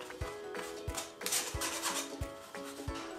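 Chestnut flour being sifted through a metal sieve, a quiet scratchy rubbing with soft rhythmic taps of the sieve against the bowl, heard up close and alone.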